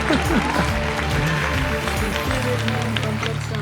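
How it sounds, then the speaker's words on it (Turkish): A burst of applause is dropped in as a sound effect during a boat trip, steady clapping over busy music-like tones for the full few seconds. "Buraya alkış sesi"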